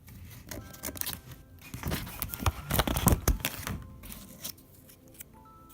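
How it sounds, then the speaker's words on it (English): Scissors snipping out small shapes, quiet close irregular cuts and paper rustles with a busier cluster of snips in the middle. "I just cut out the rest."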